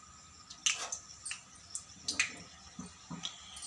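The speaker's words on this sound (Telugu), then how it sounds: "ఇప్పుడు మనం కట్ చేసి పెట్టుకున్న సీనా కొమ్ములు వేసుకుందాం ఫ్రెండ్స్." Cut pieces of sina kommulu sweet dough dropped one by one into hot frying oil, giving a run of soft, wet splats and drips at an uneven pace, fairly quiet and close.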